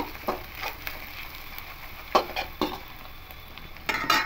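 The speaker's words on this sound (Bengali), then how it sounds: "এবার খুব ভালো করে মিক্স করে নেব।" Turmeric, cumin and Kashmiri chili powder being stirred in a pan, with scattered scraping taps of the spoon over a faint, steady sizzle.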